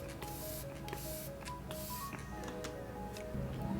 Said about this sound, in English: I'm gonna take my Fenty Beauty What It Do spray and just spray my face.